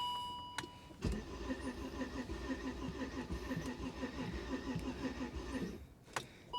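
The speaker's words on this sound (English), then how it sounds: "Start and stop engine. Push right here." A 1966 Chrysler Imperial with 182,000 miles and a rough-sounding engine starts up, cranking into a steady, uneven idle that runs for several seconds before cutting off, with a couple of sharp clicks around it.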